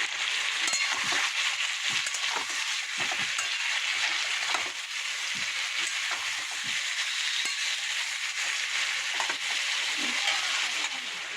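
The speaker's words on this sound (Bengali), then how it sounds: "পেঁয়াজ রসুন আলু ভাজা ভাজা হয়ে গেছে" Potatoes, onion and garlic frying in a pan give a steady, loud sizzle with scattered crackles and pops from spatula stirring, continuous throughout with no talking.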